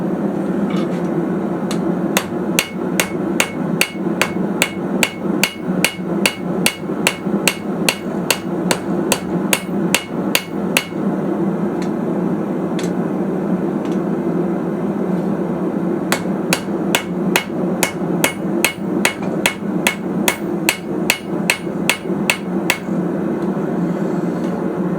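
Hammer blows ring out on an anvil while a railroad spike is forged into an oyster shucker, with a twist section kept on the anvil face. Steady rapid strikes come in two long runs separated by a short pause, loud and close over a constant background hum.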